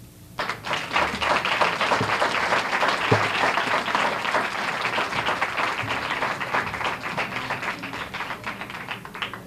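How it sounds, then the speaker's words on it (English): At a press conference for a summer youth employment program, an audience breaks into loud, sustained applause that swells quickly and carries on with crisp individual claps and a few thumps near the microphone. "Let's get another round of applause for these young brothers"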